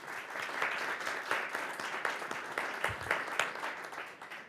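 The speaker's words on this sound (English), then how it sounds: "let's give them a round of applause" Applause from an audience at a lecture series, a moderately quiet, somewhat distant patter of many hands clapping in an even, continuous wash with slight swells.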